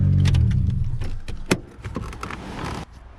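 A cheap used car with its rotten rear exhaust box removed runs with a loud, raw low rumble that fades after about a second, followed by scattered clicks and handling noises nearby.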